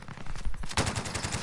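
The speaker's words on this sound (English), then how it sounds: "This is the RPD, bro. It has no recoil, right?" An RPD machine gun fires in a video game: a dense, rapid, steady stream of loud shots that sharpens and grows louder partway through the short burst.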